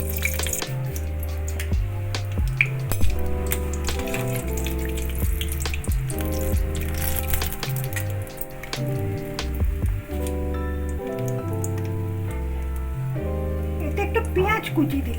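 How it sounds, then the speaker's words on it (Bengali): Dried red chilli, bay leaf, crushed green cardamom, cloves and cinnamon crackle and sizzle steadily in hot oil, with music playing underneath. "তেলে একটু শুকনো লঙ্কা, তেজপাতা আর একটু থেতো করা ছোট এলাচ, লবঙ্গ আর দারুচিনি আমি এখানে ফোড়ন দিয়ে দিলাম।"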